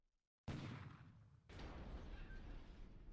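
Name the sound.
4-inch naval guns firing at a submarine, from a video game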